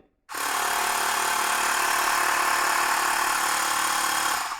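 A Mi electric air compressor for bike and car tyres starts abruptly and runs with a loud, steady buzzing motor drone and rattling vibration, continuing evenly until the end.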